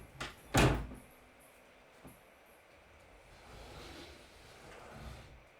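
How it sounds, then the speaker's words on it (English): Doors of a room being shut, a sharp knock and a louder solid thud close together, then a faint later click, followed by quiet room tone with distant outdoor rumble. "I just remembered I need to close the doors"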